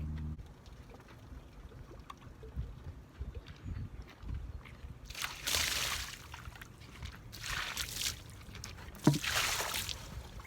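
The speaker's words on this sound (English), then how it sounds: "started dipping it in the lake, pulling up water to wash down the deck" Lake water thrown from a bucket splashes and sloshes across a boat deck, coming in several broad rushing bursts over low steady background noise, with no talking.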